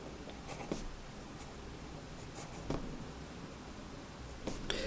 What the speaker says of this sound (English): Welcome to a writing sample with the Lamy Safari.